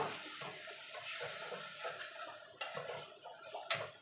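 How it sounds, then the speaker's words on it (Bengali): A spice paste for banana flower curry is stir-fried in a pan, with a soft low sizzle under scraping spatula strokes and a few sharper metallic taps, quiet and close. "এবার ভালো করে কষিয়ে নেব"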